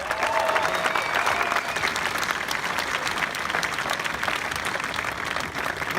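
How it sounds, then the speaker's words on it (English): A large crowd in the stands applauds the graduating class at a high school graduation ceremony, with dense, steady clapping throughout and no speech over it. "Let's have a huge round of applause for them."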